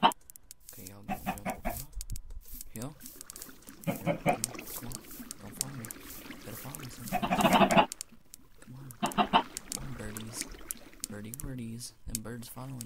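Minecraft chickens cluck in repeated bursts through a farm scene in the video game, fairly close, mixed with other game animal noises while someone talks over them.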